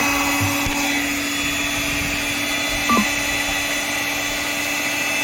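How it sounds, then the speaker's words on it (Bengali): A hand blender whirs steadily while mixing cake batter, giving one continuous, close-up motor drone with a bright tonal whine that holds level throughout, with a brief small bump near the end. "আমরা একটি হ্যান্ড ব্লেন্ডার নেব আর আমাদের সলিউশনটাকে মিক্স করে নেব"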